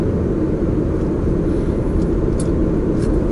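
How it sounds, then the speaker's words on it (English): A low, steady rumble of an emergency trauma helicopter passing overhead, heard from inside a moving Kia e-Niro on a rainy drive, blending with road noise at a constant level. "In the air we see the emergency helicopter."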